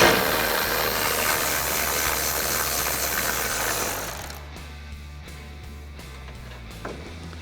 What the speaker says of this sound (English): Now we can remove the 2 lower bolts for the grill using our 13mm socket.